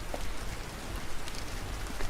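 Heavy rain pours steadily in a dense, even hiss with scattered drop impacts, loud and continuous throughout, a cartoon-style downpour effect with no voices.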